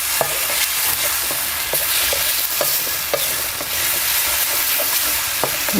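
Grated tomato masala for paneer masala sizzles loudly and steadily in a pan, broken by repeated sharp clicks and scrapes of a spoon stirring, close by and without speech.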